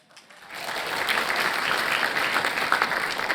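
An audience at the 2025 Bay of Quinte federal candidates debate breaks into applause, swelling quickly from a few claps into a dense, steady round of clapping that fills the room.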